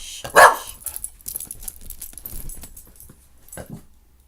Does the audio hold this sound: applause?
no